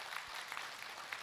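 An audience at a Buddhist monk's lecture claps in a brief, steady burst of dense applause at a moderate distance.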